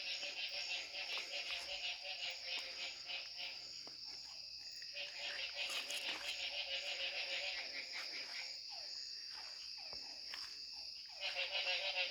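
A dense night chorus of crickets and insects drones steadily. Low croaks, likely frogs, come and go beneath it, with a few faint creaks in the background.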